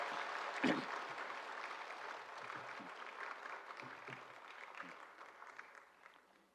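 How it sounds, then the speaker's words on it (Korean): A short burst of applause from a small congregation at a Korean church Sunday service, steady clapping that fades out over several seconds. "격려 박수하겠습니다"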